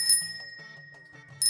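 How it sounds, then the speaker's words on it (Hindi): A rickshaw bell rings in quick metallic dings at the start and end, bright and close, with a low humming tone in between. "आगे जाने वाले एक दूसरे रिक्शे को देखकर उसने घंटी बजाई।"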